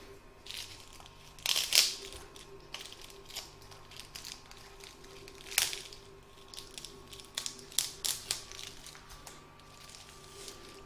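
Scissors trim around a Mylar butterfly appliqué, with crinkly, crisp snips and rustles of the shiny film coming in separate bursts, a few louder crunches standing out against a quiet background hum.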